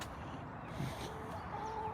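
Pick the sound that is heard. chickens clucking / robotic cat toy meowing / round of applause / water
chickens clucking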